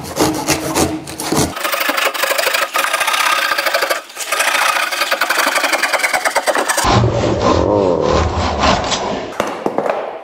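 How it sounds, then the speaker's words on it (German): A fine handsaw cuts through wood in steady back-and-forth strokes, close and loud, with a brief pause midway and a rougher, shifting rasp toward the end as the cut finishes. "Deswegen säge ich jetzt den Rest mit der Feinsäge"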